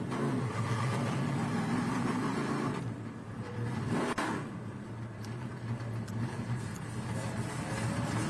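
Trans Am Series race cars roar around Virginia International Raceway, a loud continuous engine drone that dips briefly as a car passes close, then builds again into sustained revving.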